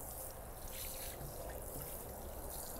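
Water sprinkled onto pressed compost and seeds in a salad container, a soft continuous trickling hiss, quiet and steady throughout with no talking.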